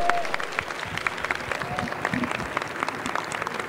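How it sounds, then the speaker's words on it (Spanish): Audience applause fills a hall after startup pitches at an entrepreneurs' roast event, a steady dense patter of many hands clapping throughout, fairly close, with faint voices mixed in. "Han ganado muchos aplausos y mucha exposición"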